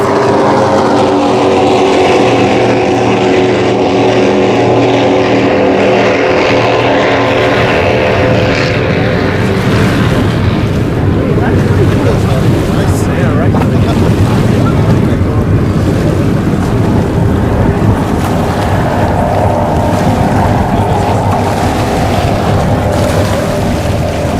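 Offshore superboats race side by side on Lake Macquarie during the Australian Offshore Superboat Championship, a loud, sustained roar of powerful engines rising and swelling as the boats pass close, with wind buffeting throughout.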